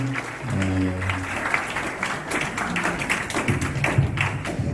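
Applause from a high school audience at the close of a lecture on cyberbullying prevention, a dense steady clatter of clapping lasting several seconds with a faint voice underneath.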